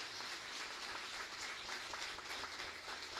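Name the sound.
applause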